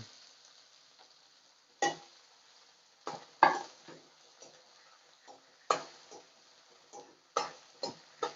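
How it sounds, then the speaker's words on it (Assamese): Chopped onions frying and being stirred in a pan for an Assamese-style chicken fry, heard as a soft continuous sizzle with irregular spatula scrapes and taps against the metal, close and fairly quiet. "এইখিনি মই এতিয়া অলপ ফ্ৰাই কৰি আছোঁ, পিঁয়াজখিনি অলপ ফ্ৰাই কৰিব লাগিব।"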